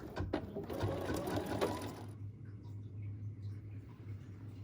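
An embroidery machine stitches a needle organizer in the hoop, a fast steady mechanical whir that is close and continuous, with brighter rattling in the first half before it settles to a lower hum.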